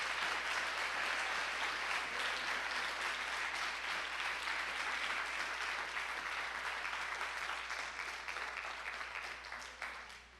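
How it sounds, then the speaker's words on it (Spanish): Church congregation applauding during a Spanish-language sermon in Venezuela, steady, even clapping from many people heard at some distance, continuing for several seconds before slowly fading. "den un aplauso al Señor"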